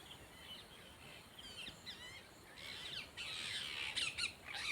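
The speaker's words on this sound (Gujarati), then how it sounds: "આ છે પોપટ પંખીડા બધાય." A flock of parrots gives harsh, scattered squawks and chirps on a farm, faint and somewhat distant against a quiet hiss of outdoor background, growing busier toward the end.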